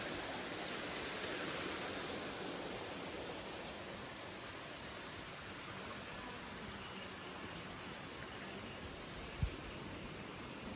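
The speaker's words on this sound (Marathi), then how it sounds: "इथे असा धबधबा आहे" Steady rushing water from a waterfall near a temple, a broad continuous roar filling the whole stretch with one brief thump near the end.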